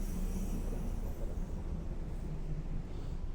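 A train in the Roblox game rumbles past in a steady, continuous low roar that holds even loudness from start to finish, with no voices over it.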